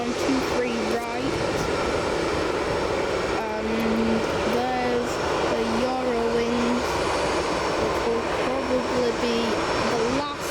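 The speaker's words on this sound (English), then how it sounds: "That's landed on 23 right." An easyJet airliner lands on runway 23 Right at Manchester Airport, its engine roar steady and distant beneath a constant wash of broadband noise, with a faint whine rising and falling throughout.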